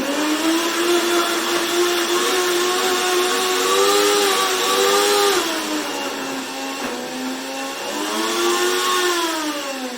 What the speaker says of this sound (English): it's as simple as putting it in the blender